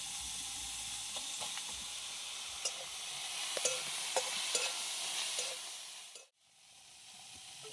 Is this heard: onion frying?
yes